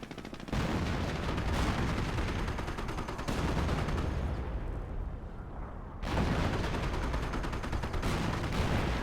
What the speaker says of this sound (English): I've always loved the howitzer explosions in Combat Heroes